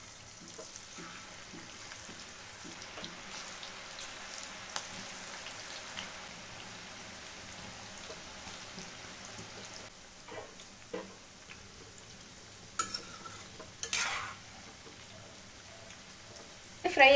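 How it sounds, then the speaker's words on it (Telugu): Onion pakoda frying in hot oil, a soft, steady crackle with scattered ticks and a few louder clinks near the end. "ఇప్పుడు ఆయిల్లో అయితే ఫ్రై చేసేద్దాం."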